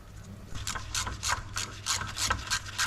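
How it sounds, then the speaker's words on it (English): Someone fits a new drain plug with washer on a VW Passat R36, giving a run of close, rhythmic ratcheting clicks from a hand wrench, repeated in quick bursts without talk. "We are installing new drain plug along with the washer, and also new filling plug with washer."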